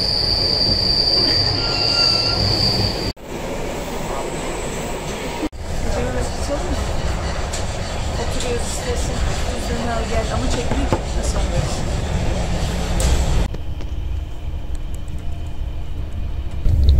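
Doğu Ekspresi passenger train running through the night on its Kars to Ankara route, heard from inside with loud continuous rumble, rattling wheels and squealing rails, brief dropouts, and people talking under the din.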